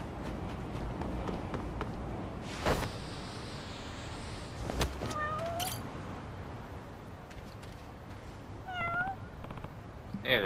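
A cat in the video game Lost Judgment meows softly a few times over game ambience and footsteps, with brief high-pitched mews standing out near the middle and end.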